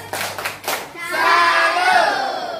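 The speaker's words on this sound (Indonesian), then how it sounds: "Berikan tepuk tangan untuk jawaban temannya tadi kelompok satu." Students in a classroom clap together in a few sharp rhythmic bursts, then a group of voices chants loudly in unison close by.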